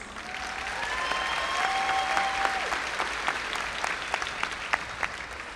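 Loud, dense audience applause at a 2025 high school graduation ceremony, a large crowd clapping steadily throughout with a few whistles near the start.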